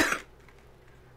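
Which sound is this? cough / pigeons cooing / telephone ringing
cough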